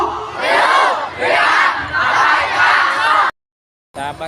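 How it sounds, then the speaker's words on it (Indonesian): A dense crowd at a pro-Palestine rally chants in loud rhythmic bursts, many voices rising and falling together for several phrases, then a brief silence before the chanting resumes. "Sahabatku, ini adalah kerumunan massa ya"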